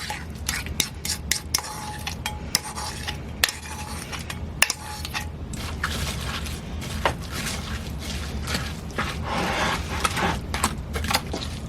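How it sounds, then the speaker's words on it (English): Cottage cheese and sour cream being stirred into a dish for weekly meal prep, with steady utensil clinks and scrapes against the bowl, close and fairly loud, without talk. "Just make sure you mix this really well and that everything's coated with the sour cream and cottage cheese"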